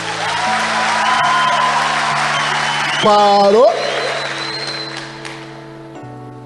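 A church congregation applauds and cheers during a preached testimony, a broad wash of clapping and shouts under a voice that speaks over it.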